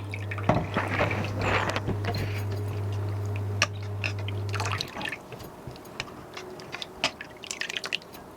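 Water sloshing and dripping as red rice flakes are swished around by hand, with soft splashes and trickles close by, plus a low steady hum for the first half.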